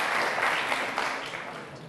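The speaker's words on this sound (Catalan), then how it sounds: "Aplaudim, sisplau." Audience applause on a game show, a brief, dense run of steady clapping that fades slightly toward the end.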